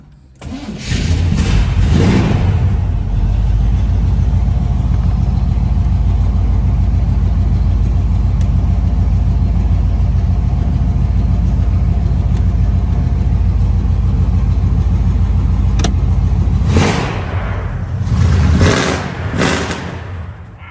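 A 1972 Chevrolet Nova SS engine cranks and fires, then settles into a loud, steady idle for about fifteen seconds before being revved several times in sharp bursts near the end.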